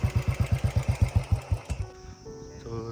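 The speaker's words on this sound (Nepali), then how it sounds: "दादाले पुऱ्याइदिएको बुलेट बाइकमा यस्तो" A Bullet motorcycle engine beats close by in a rapid, regular thumping rhythm for about two seconds, then drops away to a fainter idle with other tonal sounds in the background.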